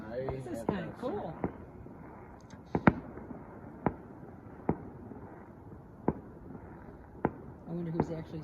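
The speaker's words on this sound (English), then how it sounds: "this is, I think, the first time that I've seen a town host a fireworks display on Christmas Eve" Fireworks going off at a town's Christmas Eve display: sharp, distant booms spaced a second or so apart over steady outdoor ambience, with people talking faintly at the start and end.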